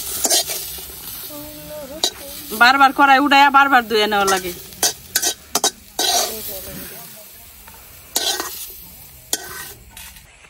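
Onion and garlic fry in a wok while being stirred, with scraping and clanking of the utensil against the metal and bursts of sizzle, as a person speaks over the cooking.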